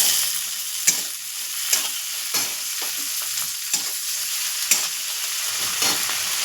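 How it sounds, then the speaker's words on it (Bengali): Chopped tomato tipped into a pan of fried onions for a homemade tarka, bringing steady close sizzling with repeated sharp stirring scrapes at regular intervals; no talk. "এর মধ্যে আমি দিয়ে দেবো এই যে টমেটো কুচি"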